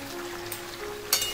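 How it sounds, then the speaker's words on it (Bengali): Spiced chicken frying in a pan with salt, ginger-garlic paste and tomato paste for a chicken bhuna, giving a steady soft sizzle with a brief louder burst near the end. "খুব ভালোভাবে সব কিছুকে মিশিয়ে নিয়ে ভেজে নিতে হবে।"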